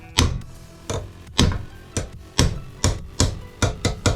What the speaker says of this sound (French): On va taper encore un peu le marteau.